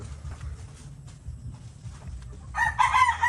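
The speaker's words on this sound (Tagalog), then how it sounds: "So kita mo yung mga manok" A rooster crows loudly near the end at a provincial Philippine home, preceded by quiet low rustling and faint chickens clucking in the background.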